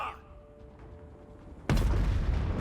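Cannon artillery fire in Total War: Warhammer 3. A quiet stretch breaks into one sudden loud, close boom that keeps rumbling to the end.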